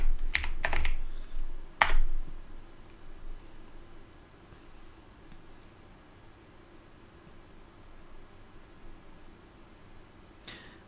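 A few sparse keystrokes click on a computer keyboard, a quick cluster at the start, another near the two-second mark and one more near the end, with quiet room hiss between them.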